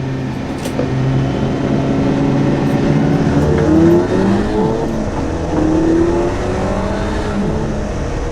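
A car driven hard on newly fitted R1 Concepts performance sport brake pads, its engine roaring loud and close as it revs up and down through the gears without pause.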